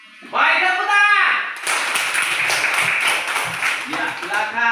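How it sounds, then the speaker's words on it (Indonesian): Classroom audience clapping hands together at the close of a school meeting session, a dense burst of claps starting partway through and continuing steadily with voices mixed in. "tepuk tangan"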